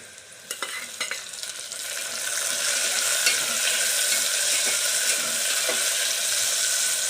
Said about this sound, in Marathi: आता कांदा झालेला आहे आता जे टॉमॅटो टाकते